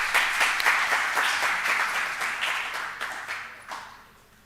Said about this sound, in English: Please join me in welcoming him with a round of applause.